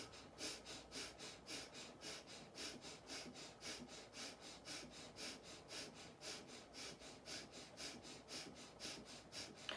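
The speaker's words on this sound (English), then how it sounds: "And then just quickly inhaling and exhaling." Rapid, rhythmic in-and-out breaths of a quick-breathing relaxation exercise, close and steady, about two to three breaths per second sustained throughout with no talking.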